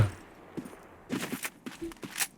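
Gunfire in the online shooter Black Squad, several short bursts and single shots at moderate distance, spaced irregularly across the moment with quiet gaps between them.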